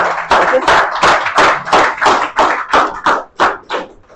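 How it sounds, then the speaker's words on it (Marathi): A small audience at a herbal toothpaste demo claps in rhythmic unison, about a dozen loud, close, evenly spaced beats. "एकदा हर्बल पेस्ट साठी जबरदस्त टाळ्या झाल्या पाहिजे"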